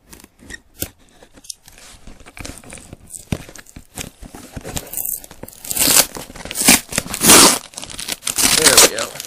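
Scissors snipping and tearing through the plastic wrap on a Need for Speed Shift PSP game, close, uneven cuts building into loud crinkling and ripping, with someone talking over it.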